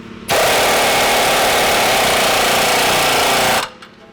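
Impact wrench tightening the upper ball joint nut with a 21mm socket on a 2019+ RAM 1500 being fitted with a 6-inch lift; one loud, steady, continuous burst of hammering lasting about three seconds, close up and alone.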